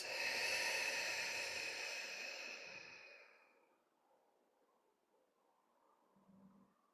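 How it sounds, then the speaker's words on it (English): A long, breathy open-mouth exhale during a yoga flow, loud and airy at first, then fading away into near silence, followed by a faint soft breath at the end. "And then cleansing, open mouth, exhale, release."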